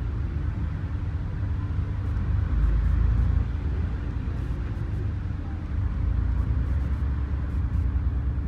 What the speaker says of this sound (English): I've actually experienced a double decker bus in Kinver.